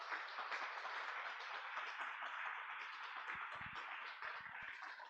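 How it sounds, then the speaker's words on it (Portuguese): Church congregation applauding during a worship service, a dense, steady wash of many hands clapping throughout, fairly distant and uniform with no speech over it. "vamos aplaudir a Jesus"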